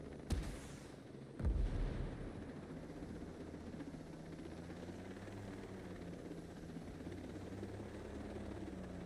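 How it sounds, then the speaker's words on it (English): A steady low helicopter drone fills the scene, broken early by two sharp blasts like missile launches or impacts, then a continuous rotor rumble. "How do you not hear a small helicopter, like, launching missiles and attacking?"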